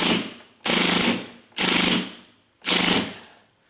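A power drill whirs in three short bursts as a screw is backed out of a sagging door, each burst spinning up sharply and then winding down.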